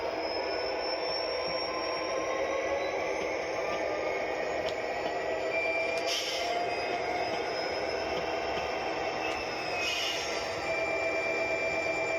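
An HO scale model train pulling onto a short spur on a layout gives a steady, faint electric motor whine with a continuous hum and a couple of brief higher clicks.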